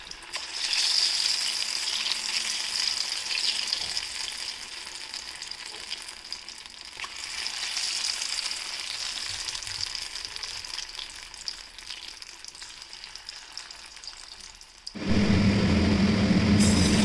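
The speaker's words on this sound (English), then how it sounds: "Get the oil rolling hot and drop tiny balls of batter into the oil." Tiny balls of jackfruit batter deep-fry in hot coconut oil with a steady bubbling sizzle, and a sudden louder burst of frying noise comes near the end.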